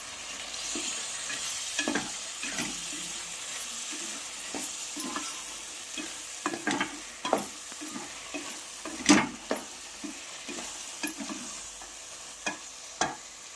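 Mutton stirred and sautéed with softened tomatoes and masala in a pan for biryani makes a steady faint sizzle, broken by repeated scraping and clattering stirs at an irregular rhythm, close by and without voices.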